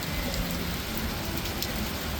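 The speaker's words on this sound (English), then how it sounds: "I've never had a holiday it's rained like this." Heavy rain pours steadily during a big storm in Memphis, a dense, constant hiss of drops striking surfaces with no voices present.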